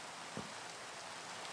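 Rain in Minecraft, a steady, faint hiss of falling rain with one soft patter, no voices.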